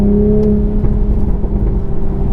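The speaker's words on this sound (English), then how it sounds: "And that engine, wow, it's razor sharp." The turbocharged engine of a 2020 Toyota Supra drones loudly and steadily, its tone easing slightly as it runs, with a low rumble underneath throughout.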